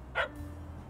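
A dog in the video game Little Kitty Big City lets out one short, quiet bark over a soft background of game ambience.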